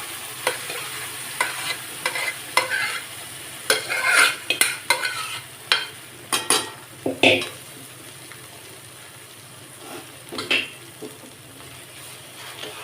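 Roasted semolina and cooked moong dal stirred in a pan over a low flame while making Chettinad ukkarai, a run of close, loud spatula scrapes and metallic clinks over a faint dry sizzle, thinning out toward the end.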